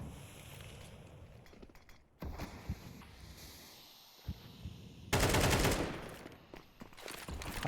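M4 rifle fire in a Counter-Strike 2 women's esports match, bursts of rapid gunshots over game ambience, with a louder, dense volley near the end.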